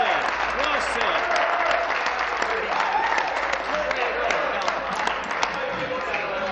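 Members clapping in a parliamentary chamber during Question Period, a continuous crackle of applause running for several seconds with overlapping voices and murmuring mixed in.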